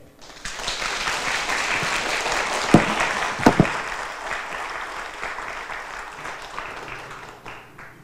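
An audience at a formal lecture event claps together in sustained applause, dense and even. A few sharper claps stand out midway before the applause tapers off at the end.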